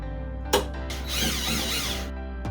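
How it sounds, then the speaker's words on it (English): A power drill drives screws to join IKEA shelf units into one, a close whirring burst of about a second and a half, preceded by a short click and start-up. "so I'm going to screw them together to make them one."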